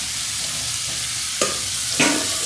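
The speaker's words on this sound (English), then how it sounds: "Ayan yung onion. Pinapapula ko na kasi marami kasi yung onion." A large batch of onions browning in a pan gives a steady close sizzle, broken by two sharp spatula scrapes and stirs toward the end.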